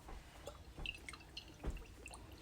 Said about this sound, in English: Now I'm pour a little bit of soy sauce in there.